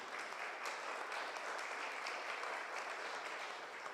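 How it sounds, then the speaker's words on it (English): Faint, steady applause from a town hall audience on a personal income tax cut, heard at a distance as an even wash of clapping with no voices on top. "Governor Justice deserves a round of applause for that"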